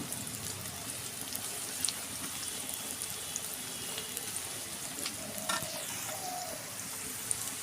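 Kashmiri chili powder and turmeric stirred into a chicken curry in a pan, a quiet continuous sizzle with soft scraping and a few light clinks, no voices.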